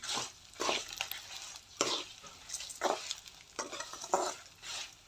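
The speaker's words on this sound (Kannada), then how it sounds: "ಇದನ್ನು ನೋಡಿ, ಚೆನ್ನಾಗಿ ಫ್ರೈ ಆಗ್ತಾಯಿದೆ." Masala with garlic fries in a pan for Mangalore-style sambar, with a constant sizzle broken by regular scraping strokes of a stirring spoon, about one every second, up close.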